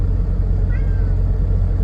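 A cat meows once, briefly and fairly faint, over the steady low drone of an idling truck cab with its APU running.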